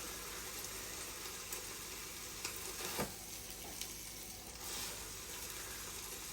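Bacon pancakes fry in a hot pan with a steady, faint sizzle, broken by a few light scrapes and taps of a utensil.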